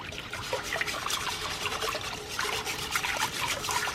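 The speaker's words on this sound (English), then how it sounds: "now that we have all of the coconut milk in there, I'm going to turn the heat on. And then I'm going to whisk" Coconut milk and coconut cream are whisked in a pot on the stove, making a continuous close liquid swishing and trickling with steady rhythmic agitation and no pauses.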